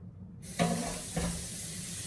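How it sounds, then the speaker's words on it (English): Tap water running into a bowl of beans and peas while making Southern soup, a steady broad rush with two brief louder splashes, close and alone with no talk. "put enough water in here to cover these beans"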